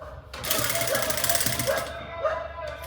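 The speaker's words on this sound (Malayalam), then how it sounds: "എലാസ്റ്റിക് അനങ്ങാതിരിക്കാൻ വേണ്ടി ഈ ഭാഗത്ത് ഞാനൊരു സ്റ്റിച്ച് കൊടുക്കുമെന്ന്" A sewing machine runs steadily at close range, stitching elastic onto the waistband of an umbrella skirt, with a continuous rapid mechanical chatter and a brief stop near the start.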